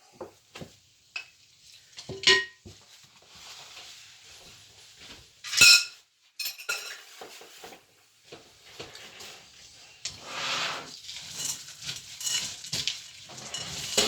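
Utensils and dishes from mixing cookie dough clatter as they are gathered off a kitchen counter and carried to the sink, with scattered sharp clanks and knocks among quieter handling sounds.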